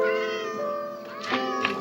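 A cat meowing in the video game Minecraft version 1.14, a couple of short mews over steady layered background game music, fairly close and clear.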